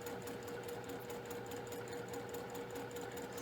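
A sewing machine stitches quilt strips together, a steady, fast mechanical whir with a constant motor tone running the whole time, close and even with no pauses.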